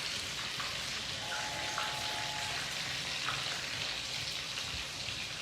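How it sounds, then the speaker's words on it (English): Coconut shrimp frying in oil gives a dense, steady sizzle and crackle throughout, with occasional small pops and a faint tonal hum, heard fairly quietly at close range with no talking. "once you get going, you start frying up real quick"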